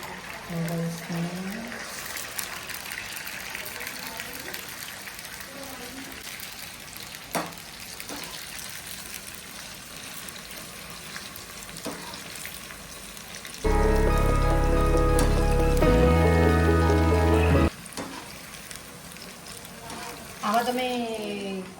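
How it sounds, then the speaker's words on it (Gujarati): Food frying in a pan while Chinese bhel is made gives a continuous soft sizzle with light stirring clatter, briefly overtaken midway by a loud steady tonal burst before the sizzling resumes. "હવે આને ફ્રાય કરી દઈશું"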